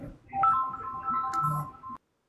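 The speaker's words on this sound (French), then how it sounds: "Ton téléphone, tu es sollicité, Sahbi." A phone's electronic tone rings out for about two seconds, a steady melodic beep that stops abruptly, heard in a room during a live aviation chat show.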